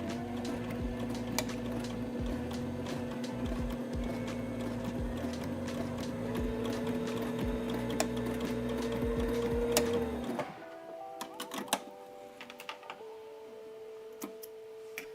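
A sewing machine stitches a French seam in a steady, rapid whir for about ten seconds, then stops, leaving quiet ticks and small handling clicks.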